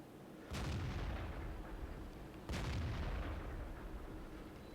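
In World of Tanks a Super Pershing's cannon fires twice against a Sherman Jumbo, each shot a sharp heavy boom followed by a long rumbling decay, about two seconds apart, fairly faint and distant.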